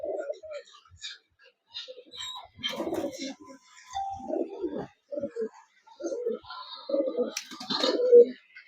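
Kaldoma pigeons in a loft in Kolkata give repeated low cooing calls in short bursts, with someone talking over and between them close by.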